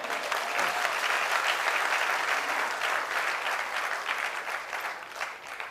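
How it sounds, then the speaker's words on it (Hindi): A full room bursts into loud, sustained applause as a volunteer comes up on stage at a sales training seminar, dense continuous clapping that holds steady, then thins slightly toward the end. "जोरदार तालियां हो जाए"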